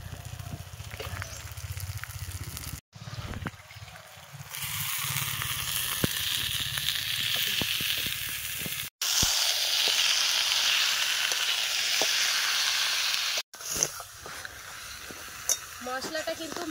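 Chicken from a country rooster hits a spice masala paste and fries at an outdoor village cookfire, giving a loud, close sizzle and crackle that runs on with a few abrupt brief breaks.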